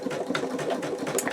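An embroidery machine stitching out an in-the-hoop wallet at its second-slowest speed gives a brief, steady mechanical whir with soft rhythmic needle pulses, close and alone.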